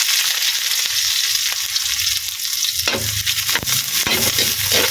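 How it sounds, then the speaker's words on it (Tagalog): Onion and garlic sizzle steadily in a pan for adobong kangkong, with scraping stirring strokes and a few clacks of the utensil over the constant frying hiss, no voices. "Haluin natin ang haluin hanggang lumabas na yung aroma niya guys."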